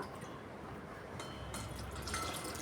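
Half a cup of water poured into thick dosa batter of rice and urad dal, giving a steady splashing, gurgling pour close by with no talking.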